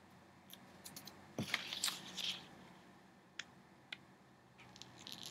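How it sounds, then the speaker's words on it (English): Serrated Tim Holtz craft scissors snip through clear shipping tape in a few short crisp cuts, close and fairly quiet, followed by light isolated clicks and rustles. "And that little serrated edge, you can hear it just biting off each little tick mark."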